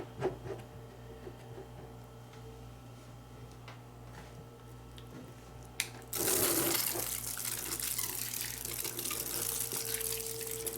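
Water streams from a bedside shower bag holding 2.5 gallons during in-bed hair washing, a steady close rushing flow starting abruptly after quiet room hum and continuing loudly to the end.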